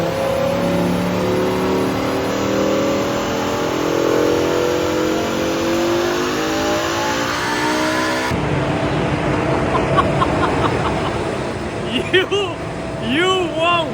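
BMW M6 with a V10 engine on a dyno during a power run: the engine holds a steady loud rising roar, then the sound cuts to a quieter close mix with people talking excitedly over it.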